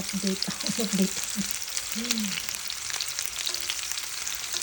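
Bola bola meatballs sizzle steadily in a frying pan, a constant hiss, while a voice talks briefly over the start.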